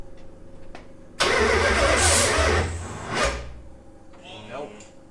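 A Nissan VH45 V8 swapped into an S13 cranks and catches with a sudden loud, rough burst, misfiring and sputtering for about two seconds before sagging into a lumpy stumble and a brief rev, then dying away under background noise.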